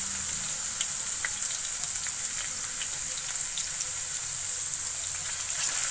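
Garlic paste fries in half a cup of hot cooking oil, giving a steady, close hiss and crackle with scattered tiny pops throughout and no speech.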